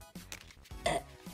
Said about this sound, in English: Sorry, I burped.